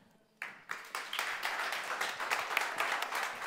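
An audience bursts into applause after a sudden start, the clapping building into a steady, dense patter of many hands that keeps going.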